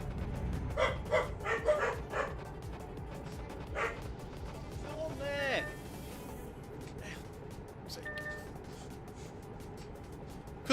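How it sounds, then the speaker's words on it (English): Dogs bark in several sharp bursts close by, followed by a whine and a fainter yip, while a person talks over them and a game's engine drone hums steadily underneath. "them barking every 5 minutes is not what I want"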